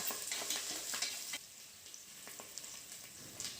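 Curry leaves crackle and sizzle as they fry in hot oil in a pan for a lentil rice dish, with a steady hiss and sharp pops, brighter at first and then settling lower.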